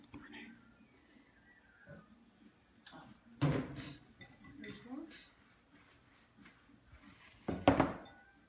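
Dishes and bowls clink and rattle in a home kitchen while someone hunts for a serving bowl for homemade potato salad, with a few brief clatters spaced apart and two louder knocks.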